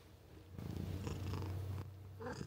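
A cat purrs close up in a steady, low rumbling rhythm, swelling louder through the middle and easing slightly near the end.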